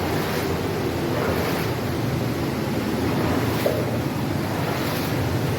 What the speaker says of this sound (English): The amount of water that's coming down there